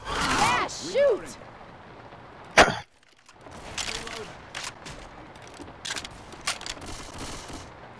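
Gunfire in Left 4 Dead 2, with several sharp shots and bursts spread across the clip, one loud crack standing out, and voices talking and shouting among the shots.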